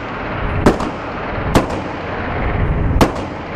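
Three loud, sharp pistol shots from a compensated PSA Dagger custom compact Glock 19 clone crack out at irregular intervals close by, each with a short echoing tail, outdoors on a range.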